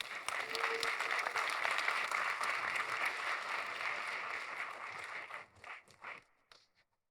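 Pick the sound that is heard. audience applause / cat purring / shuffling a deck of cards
audience applause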